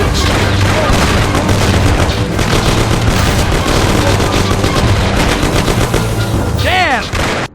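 Sustained automatic gunfire from a gangster shootout in the game Mafia: The City of Lost Heaven, loud and dense bursts with booming shots throughout, a sweeping whistle near the end, and shouted voices mixed in.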